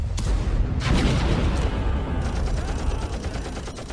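Dense, continuous battlefield gunfire with booming shots from an animated stop motion war film, a loud unbroken wash of rapid rattling fire and heavier thuds.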